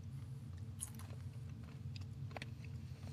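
Crunchy roasted fava beans are chewed close to the mic, giving faint, irregular crunching bites over a steady background hum, with no one talking.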